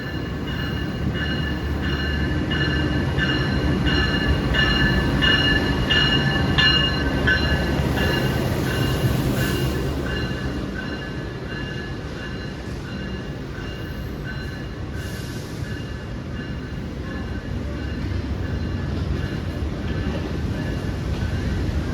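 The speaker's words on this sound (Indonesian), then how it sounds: "ini kereta api Turangga akan segera masuk dan datang di jalur 6 stasiun Surabaya Gubeng" Turangga passenger train pulling into track 6 at Surabaya Gubeng station, a steady loud rumble of wheels and rolling cars with faint metallic squeals, easing slightly in volume partway through without any talk.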